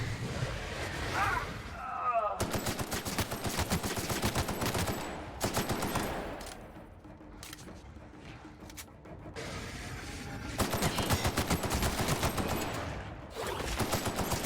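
Enemy weapons fire at the player in The Outer Worlds on hard difficulty, in dense, rapid bursts of automatic shots that come in several long volleys separated by short lulls, loud and close.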